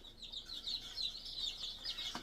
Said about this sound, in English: So we picked up 4 different types of chickens, and we got 3 of each.